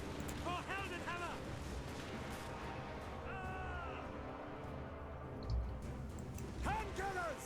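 A Helstorm rocket battery launches volleys in a Warhammer battle game, its rumbling fire running under shouted unit voice lines and chanting troops, with heavier low thumps near the end.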